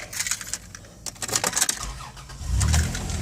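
A 1999 Dodge Caravan LE mobility van cranks and fires up at close range, preceded by keys jangling and clicks, with the engine catching into a low rumble near the end.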